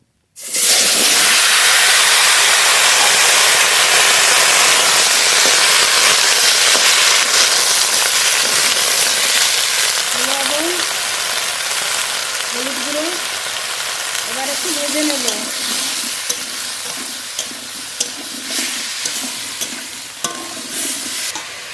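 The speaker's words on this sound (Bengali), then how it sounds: "এই মাছ ভাজা তেলের মধ্যেই কেটে রাখা আলু শিম কেটে ধুয়ে নিয়েছি দিয়ে দেবো" Cut potatoes and beans go into hot oil left over from frying fish, bursting into a loud, steady sizzle and hiss that holds for the whole stretch, with faint stirring scrapes near the end.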